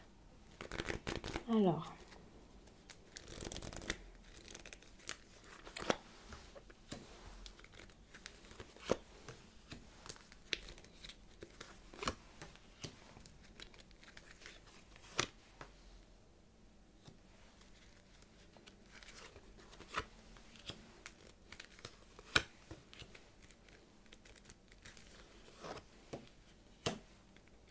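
Oracle cards are shuffled and laid out on a table with soft, close riffles, flicks and light slaps throughout, under someone speaking French.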